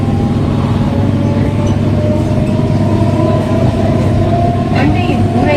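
A Chennai local suburban train on the Beach to Chengalpattu line, heard from inside as a loud, continuous rumble and rattle of carriages with faint metallic squeals, and a voice speaking over the noise.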